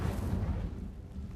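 An Incendio fire spell cast in Hogwarts Legacy, a deep, rumbling burst of flame that hits loud and thick at once, then fades into a roaring, crackling whoosh.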